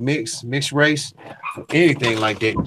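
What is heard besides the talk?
dog barking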